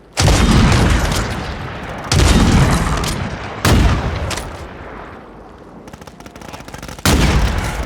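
Loud bursts of video game gunfire, several separate volleys with sharp onsets and decaying rumble, close and intense.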